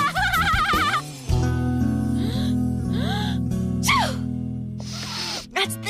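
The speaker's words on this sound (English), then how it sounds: "That's the 10th time I've sneezed in the last half hour." A single sneeze from a voice in an English-dubbed anime episode, with gasping inhalation before it, set among musical background tones and brief vocal sounds.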